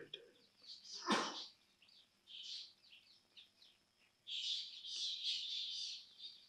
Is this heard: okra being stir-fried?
no